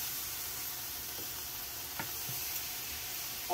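Pork chop frying in a pan, a steady dense sizzle throughout with a few faint clicks and scrapes as it is flipped, close and continuous with no talk.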